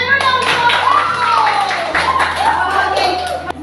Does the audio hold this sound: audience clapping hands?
yes